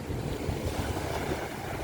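Ocean waves break on the dolomite beach of Manila Bay, a continuous low rushing roar of surf mixed with strong wind buffeting the microphone, with no voices.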